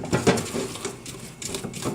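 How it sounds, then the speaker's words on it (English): Choux pastry dough being stirred in a pan for homemade cream puffs gives a short run of close scraping and soft clattering against the metal, slightly uneven in rhythm. "Just don't stop stirring."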